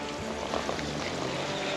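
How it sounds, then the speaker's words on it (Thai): Water flowing along a forest stream channel, a steady, fairly faint broadband rush and trickle with no voices. "น้ำไหลด้วยนะครับ"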